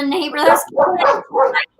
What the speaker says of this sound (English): Now she's barking in here.